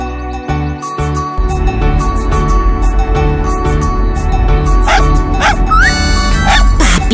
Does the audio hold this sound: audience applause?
no